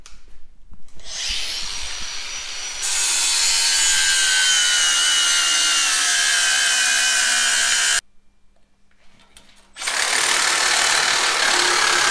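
A power grinder shaping the C's of a Jeep axle's inner knuckle, a loud harsh abrasive whine in two long bursts split by a brief pause, with no talk.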